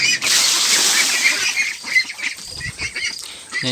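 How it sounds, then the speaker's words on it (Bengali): A brood of Pekin ducklings stirs in their enclosure, letting out a busy run of overlapping honking calls and peeps, fairly close, with some rustling movement and no voices. "সব হাঁসগুলো উঠে গেছে"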